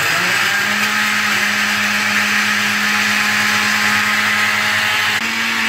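Blender running on its second speed while making a banana milkshake, a loud steady whirring drone that holds constant for several seconds before dropping slightly at the end, close by with no talk.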